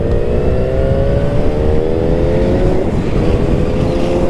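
Yamaha FZ1N motorcycle engine pulling hard under acceleration, a loud, close, continuous roar with the pitch climbing steadily, mixed with heavy wind buffeting throughout.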